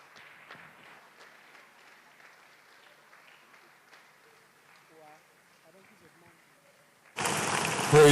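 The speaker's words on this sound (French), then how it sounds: "Acclame très fort pour Jésus." Crowd at a nighttime Easter faith convention breaks into loud, sustained applause and cheering for Jesus, a dense wash of clapping that bursts in near the end after quieter murmuring and talk.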